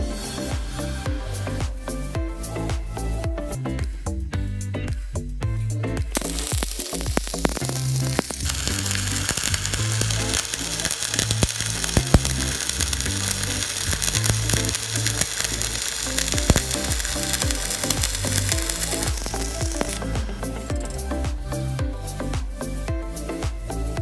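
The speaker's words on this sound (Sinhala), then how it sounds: "අපි දැන් පරාසය වැඩි කරලා වෙල්ඩින් කරලා බලමු කොහොමද අවුට්පුට් ඇම්පියර් එක එන්නේ කියලා" Arc welding with a 3.2 mm (10-gauge) rod at a raised output of about 130 amps gives a continuous, loud crackling sizzle that runs unbroken and close throughout.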